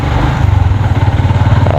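A motorcycle passes close by on a street in Barangay Magallanes, Masbate City, its loud, pulsing engine drone filling the moment.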